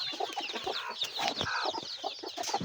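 A bantam chicken clucking up close in a backyard, a busy run of short, overlapping clucks and chatter, fairly faint but clear, with no talking.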